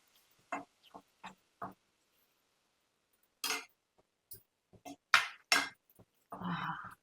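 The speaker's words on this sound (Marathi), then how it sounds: "आता हे छान आपण हलवून घेऊया" Marinated chicken kheema is stirred in a pan, giving a run of sparse, sharp clinks and scrapes of the utensil against the metal, separated by short quiet gaps.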